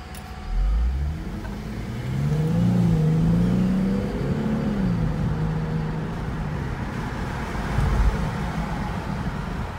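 Infiniti G37 fitted with a Mishimoto intake tube, its engine revving up loud and close with a rising, whirring note that sounds faintly turbo-like, holding strong before easing off briefly and surging again.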